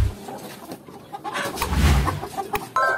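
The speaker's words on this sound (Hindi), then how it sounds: "अब रेंडमली हम कोई भी मुर्गा पकड़ लेते हैं इनमें से" A rooster clucks in short, loud bursts while being grabbed from a flock of Lohmann Brown and Rhode Island Red chickens, with scuffling and a few sharp calls close by.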